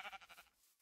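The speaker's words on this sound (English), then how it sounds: "Oh, it's a black sheep." A black sheep bleats once in Minecraft, a short, close, quavering call of a few pulses that fades quickly.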